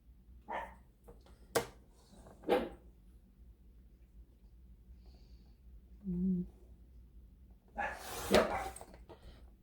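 Puppies indoors give a few scattered, sharp barks and yips, some close and loud, spread across a quiet room with short gaps between them.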